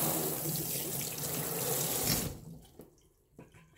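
Tap water runs steadily into a pot being filled for a homemade ginger drink, a loud, close rushing splash that cuts off after about two seconds, leaving a few faint drips and clinks.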